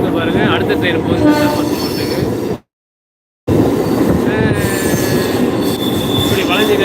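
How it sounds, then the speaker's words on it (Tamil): A metro train runs on the line between St. Thomas Mount and Velachery in Chennai. Close, loud wheel squeal and a steady rolling rumble are broken by a sudden brief silence, then resume, with faint voices in the background. "இங்கே பாருங்கள், அடுத்த ட்ரெயின் போகுது."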